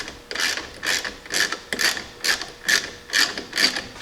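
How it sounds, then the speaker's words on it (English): A bolt and flag nut being threaded together and tightened, heard as a close, regular series of about eight sharp ratcheting clicks evenly spaced under half a second apart, with no voices. "I'm just going to get the slack out of the bolt and get it to where it's just about to tighten"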